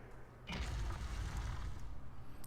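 A heavy door opens in The Elder Scrolls Online, a low rumbling scrape that swells suddenly and holds steady for a couple of seconds, fairly close and with no talk over it.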